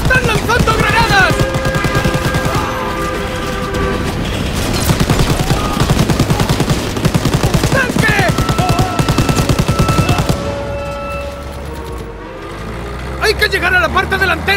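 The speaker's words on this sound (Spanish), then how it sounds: "¡Sigue disparando!" Sustained automatic gunfire in Call of Duty: World at War rattles on almost without pause around a train, with loud shouted voices over the top and a brief lull before more shots near the end.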